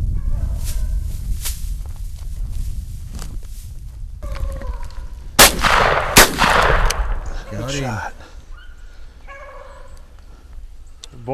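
A sharp gunshot rings out in the open during a rabbit hunt near a cornfield, a single loud crack followed by a brief echo, mixed with outdoor noise and a dog barking before and after.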